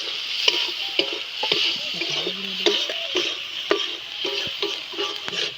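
Chicken offal frying in oil with turmeric powder is stirred in a pan, a steady close sizzle broken by repeated scraping and clinks of the spoon against the metal, with no talking.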